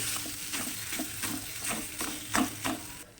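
Boiled, hand-mashed potatoes being sautéed with spices in a pan for bread chop filling; steady sizzling with a regular run of close spoon-scraping stirring strokes, no talking.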